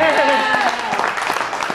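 A crowd applauds loudly and continuously in a brief burst during a talk on conspiracy theories, and a voice is heard over the clapping.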